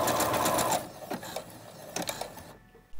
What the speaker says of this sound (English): I had to zigzag the elastic shut on my machine before swapping to the twin needle